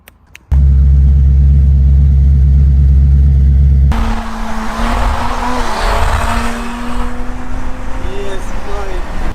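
A tuned Audi S4 with power modifications is driven hard on the road. A loud, steady engine drone cuts in abruptly, then settles into a lower running note with rising revs and brief squeals, with some talk underneath.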